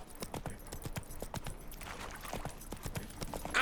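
Hooves pound in a quick, even gallop as Roach runs through The Witcher 3: Wild Hunt. The beat is moderately close and steady, with faint game ambience beneath and a soft snort near the start.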